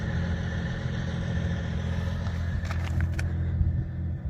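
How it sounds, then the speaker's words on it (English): A classic truck with wrap fenders idles at a salvage yard, a steady low mechanical rumble running throughout, with a few brief metallic clanks near the end. "that truck's running over there"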